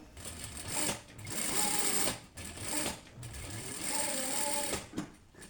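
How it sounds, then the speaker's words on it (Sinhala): Sewing machine stitching along the edge of a scrap-fabric patchwork bag, a loud, close, rapid whirring run that pauses briefly twice before starting again, with no talking. "මෙන්න මේ විදිහට ඔයා අයිනේ මැෂින් කරගන්න ඕන."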